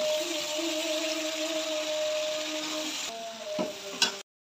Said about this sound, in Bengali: এখন আমি বাকি সবজিগুলো দিয়ে দিব এটার মধ্যে